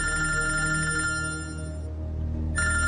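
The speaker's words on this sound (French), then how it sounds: "Alors quand son téléphone sonne..." A mobile phone rings with a steady electronic ringtone, loud and close, playing one burst, pausing briefly, then starting again.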